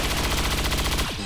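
Sniper rifle shot in the video game XCOM 2, a loud sustained burst of rapid rattling gunfire that cuts off after about a second and ends in a brief falling tone.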